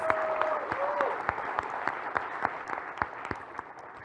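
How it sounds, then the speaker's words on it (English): An audience at a Realme 3 phone launch event claps in a sustained round, with sharp individual claps standing out; a brief voice is heard near the start. "I think we should give a big round of applause for these designers."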